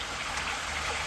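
Water flows through a pond spillway pipe after heavy rain, a faint, steady rushing trickle heard briefly on its own.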